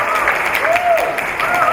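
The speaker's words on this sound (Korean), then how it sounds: "큰 박수로 환영해 주시기 바랍니다" Audience applause welcoming the director of Hanseo University's language institute at the 11th international student Korean speaking contest, a steady wash of clapping with a faint voice or tone gliding through it.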